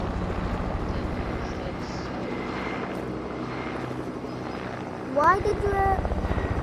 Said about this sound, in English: Helicopter. There you go.